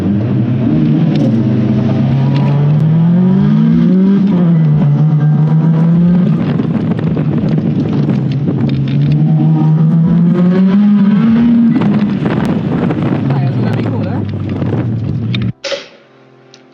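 Autocross car with a turbocharged 4G15 MIVEC engine pulling hard out of a corner, a loud close droning engine note rising and falling with the revs, joined by wind buffeting, until it cuts off abruptly near the end.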